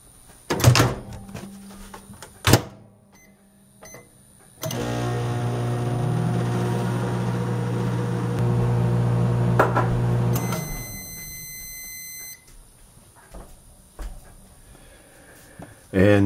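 A microwave oven heating a Lean Cuisine egg white breakfast sandwich: door clunks and taps, then a steady low electric hum for several seconds that stops with high electronic beeps, followed by more handling noises.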